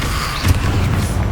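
The Incendio fire spell in Hogwarts Legacy is cast with a dense, roaring whoosh of flame and a low rumbling boom, steady and loud through a short burst of combat.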